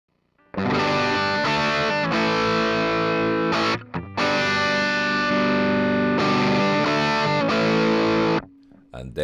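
Electric guitar played through a DIY Fat Rat distortion pedal, thick and saturated, with sustained chords ringing loud and alone, broken by two brief gaps and a quieter held note near the end.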